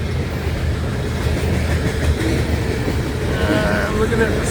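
Empty grain cars of a BNSF freight train roll by close in Montana, a continuous rattling rumble of wheels and light, hollow-sounding cars, with a voice talking faintly beneath.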